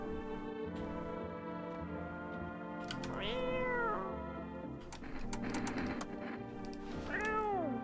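A cat meows repeatedly in the video game No, I'm not a Human, the calls rising and falling in drawn-out, wavering cries over a steady humming background.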